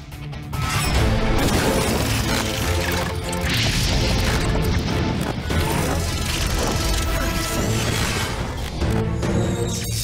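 Cartoon battle impact from the Phantom Spider's attack in Watch Car: a loud, dense crash and smashing burst running almost continuously over a layered score, with heavy booms and whooshing debris throughout.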